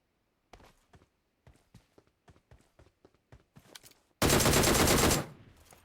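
Gunfight in PUBG Mobile: a string of separate single shots at an uneven pace, some nearer and some farther, followed by one loud sustained burst of rapid fire close up that cuts off abruptly.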